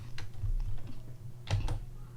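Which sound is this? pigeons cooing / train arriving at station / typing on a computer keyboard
typing on a computer keyboard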